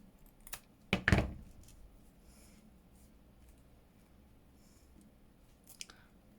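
Scissors snip through netting being trimmed down for a fabric embellishment, with a few close, crisp cuts clustered near the start and a faint one near the end, over a quiet room.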